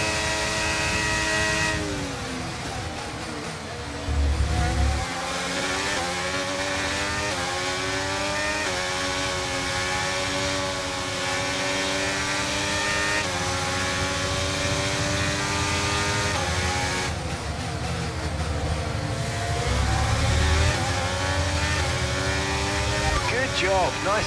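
Race cars in the F1 23 video game at the Spanish Grand Prix, engines wailing and accelerating continuously with rising and falling pitch, loud and constant, while voices talk over the roar.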